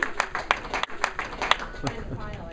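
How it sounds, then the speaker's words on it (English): A small audience gives Tim a round of applause at a Silver Strike event, sparse and uneven claps in short bursts rather than a full roar, with a voice speaking over them. "Tim, big round of applause for Tim"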